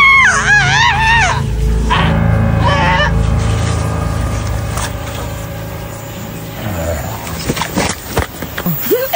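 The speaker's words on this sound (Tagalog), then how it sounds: "sumisigaw na eh" A person screams loudly and shrilly in a wavering, rising-and-falling wail over the first few seconds, followed by rumbling noise and scattered sharp knocks and thumps toward the end.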